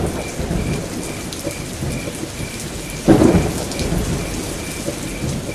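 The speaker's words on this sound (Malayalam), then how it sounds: "ഇതൊരു നശിച്ച മഴ തന്നെ." Heavy rain pours steadily with a sharp crack of thunder breaking through midway, loud and close, with no voices.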